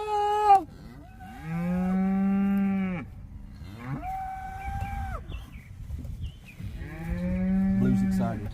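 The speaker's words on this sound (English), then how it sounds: "Cows, moo!" Cattle in a pasture moo loudly and close by, with three long, drawn-out moos separated by brief pauses and no talking over them.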